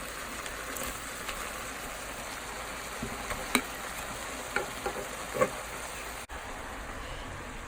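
Food sizzles in a single pan while a utensil stirs and scrapes, mixing a lazy golumpki dish, with a few sharp clicks and taps against the metal; nobody talks.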